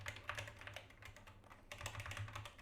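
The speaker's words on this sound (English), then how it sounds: "I'm still typing." Rapid, steady clicking of computer keyboard keys being typed on, heard faintly at close range, with a steady low hum underneath and no talking.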